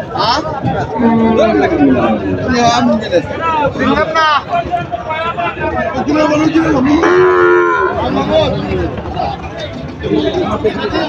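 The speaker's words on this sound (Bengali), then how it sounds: "এখনো কিন্তু প্রচুর গরু আসতেছে সেই বিখ্যাত চান্দাইগণ হাটে।" Cattle moo repeatedly, near and loud, at the crowded Chandaikona cattle market, their calls rising over constant crowd chatter and babble.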